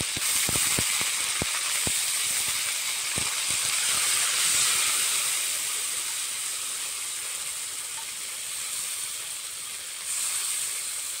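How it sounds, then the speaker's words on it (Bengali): A loud, steady hiss of sizzling as the water used to rinse ground spices is poured into spice paste frying in a pan for a Bhola fish dish. The paste holds ground ginger, cumin and dried red chilli. A few sharp crackles come at the start, with no talk. "এবার দিয়ে দেবো মশলা ধোয়া জল।"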